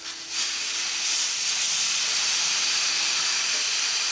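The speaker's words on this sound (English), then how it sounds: "Gotta get the valve core out." Steady air hiss rushing out of a motorcycle tire valve as the valve core is pulled, during a tire change on an Indian Challenger; a loud, continuous high-pitched whoosh that holds level for several seconds with no talking.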